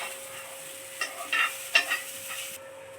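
Food roasts in a pan over a medium gas flame, a soft steady sizzle with a few brief scraping stirs and light clinks of a utensil against the pan.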